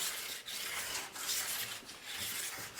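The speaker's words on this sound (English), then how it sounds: "the edge with the stone a couple times, gets off any burrs." A diamond stone rubs along a metal ski edge in quick, repeated strokes, a soft, close rasping scrape with no talk.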